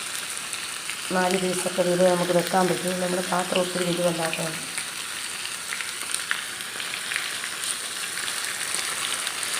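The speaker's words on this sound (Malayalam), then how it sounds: "അപ്പോൾ നമുക്കിങ്ങനെ നമ്മുടെ കാന്താരി അരച്ച് വെച്ചിരിക്കുന്ന മീൻ പുരട്ടി വെച്ചിരിക്കുന്ന ഓരോരോ പീസുകൾ ഇങ്ങനെ നമുക്ക് അതിനകത്തേക്കൊന്ന് ഇട്ട്" Large fish pieces coated in ground kanthari chili paste sizzle and crackle steadily in hot oil in a small pan, a continuous close frying hiss while someone talks over the first few seconds.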